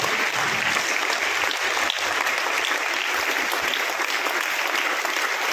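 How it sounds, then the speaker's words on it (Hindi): An audience at a school gathering applauds the director in a sustained, dense wash of clapping that stays level and continuous, with no talk standing out. "एक बार जोरदार तालियां डायरेक्टर सर के लिए"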